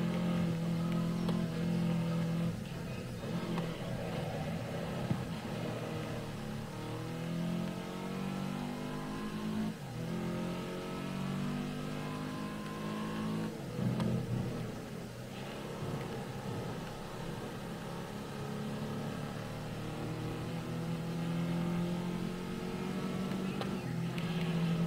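Racing car engines in GRID Legends rev and shift continuously, pitch sweeping up and down through gear changes over a long stretch, with someone talking over the steady engine drone.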